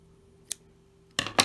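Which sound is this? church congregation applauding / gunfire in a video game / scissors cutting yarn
scissors cutting yarn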